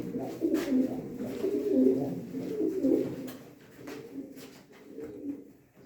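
Pigeons coo in low, throaty rolls at a pigeon auction, with several overlapping calls rising and falling close by amid faint background murmur.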